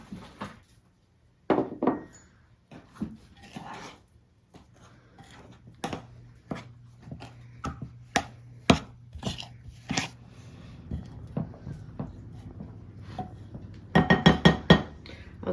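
All-purpose flour is added to chocolate cookie batter and mixed in a bowl, giving irregular knocks and clinks of a utensil against the bowl, close and fairly quiet, building into a quick burst of taps near the end.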